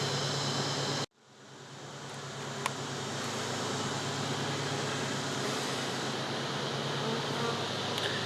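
Honey bees swarming during a hive removal in Central Florida, a dense continuous buzzing drone close by that cuts out briefly near the start and then swells back to a steady hum.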